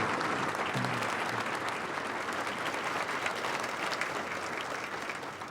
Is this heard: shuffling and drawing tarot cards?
no